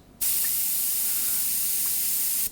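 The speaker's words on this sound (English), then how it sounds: "So if you're getting bubbles in your paint like this and you don't know what's causing it, it's really frustrating." An airbrush spraying water bursts into a loud, steady hiss that holds evenly for about two seconds, then cuts off, heard alone and close.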